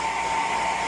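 A blow dryer drying a pet bird after a shower gives a steady, close, loud whirring hum with no pauses and no voices.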